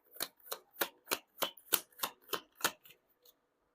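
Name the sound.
shuffling tarot cards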